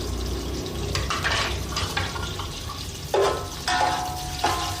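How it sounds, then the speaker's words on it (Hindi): Chopped garlic dropped into about half a cup of hot oil sizzles and fries steadily, with a few louder stirring scrapes and bursts as it is moved around the pan. "फिर हम इसके अंदर अपने कटे हुए सारे लहसुन डाल देंगे"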